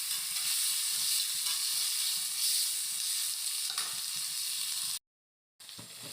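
Tomatoes frying in a pan for tomato rice give off a steady, loud sizzle that crackles close up for about five seconds, then cuts out briefly before the sizzling resumes.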